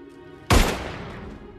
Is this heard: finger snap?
no